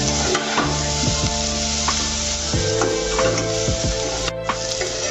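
Mixed vegetables with green chili stir-fry over high heat for noodles: a constant, close, loud sizzle with a few sharp spatula scrapes and knocks against the pan.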